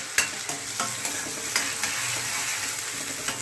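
Onion frying in oil with curry leaves for a carrot curry, a steady close sizzle punctuated by regular spatula knocks and scrapes roughly every half second, without speech.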